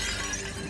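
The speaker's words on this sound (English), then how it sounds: "the glass broke away" A large piece of glass shattering after being struck at 40 miles per hour during a tornado test, a short dense burst of breaking and crashing, loud and close.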